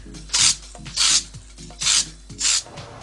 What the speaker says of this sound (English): now I'm sanding with a very, very mild sandpaper.